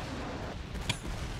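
Airstrike explosions in a first-person shooter match go off as one brief, muffled boom with a sharp crack in the middle, set against a low rumbling game background.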